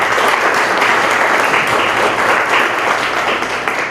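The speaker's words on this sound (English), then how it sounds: "So we can give Prabhu a nice round of applause." Sustained audience applause at a Hare Krishna community event hosted by ISKCON Scarborough, a dense, steady wash of many hands clapping at even loudness for the full stretch, with no voices standing out.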